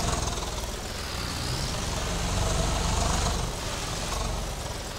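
Swaraj 855 tractor engine in Farming Simulator 22 with an Indian mod, a loud, steady, rumbling drone that runs unbroken throughout with no pauses.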